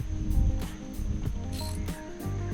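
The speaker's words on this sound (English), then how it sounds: "Lock it in just a touch with the wrench." A wrench ratchets in short clicking bursts while snugging a part on a 1993 Yamaha 115 two-stroke outboard during winterization, close and fairly quiet with no talk.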